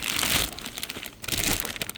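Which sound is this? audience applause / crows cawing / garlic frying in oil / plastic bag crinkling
plastic bag crinkling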